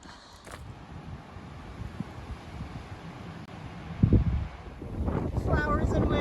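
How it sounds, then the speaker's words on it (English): Wind sweeps through a burned stretch of the Appalachian Trail lined with charred, dead standing trees, a steady rushing hiss that swells stronger toward the end, where a voice briefly joins. "Flowers and wind."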